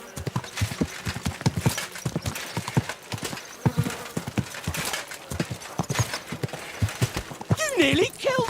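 Horse hooves clip-clop in Kingdom Come: Deliverance II, a quick steady trot of close, crisp hoofbeats, with a short whinny near the end.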